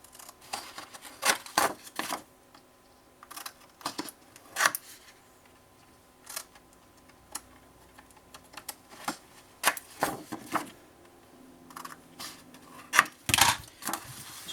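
Scissors snipping the four corners of a pop-up album cover, a series of short, sharp cuts scattered irregularly with pauses between them, close and fairly quiet.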